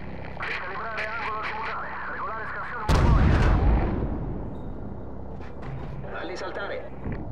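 Heavy artillery and gunfire in Call of Duty: Modern Warfare on PS4: a loud, booming blast hits midway and rumbles away, with radio voices talking before and after.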